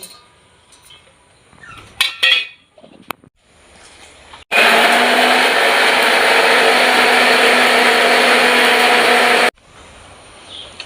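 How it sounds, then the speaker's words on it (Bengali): A mixer grinder blends spices into a paste for a Bengali banana-flower and prawn curry. After some clinking and handling, its loud, steady whirring motor runs for about five seconds and then cuts off abruptly. "এবার মিক্সারে পেস্ট করে নেব"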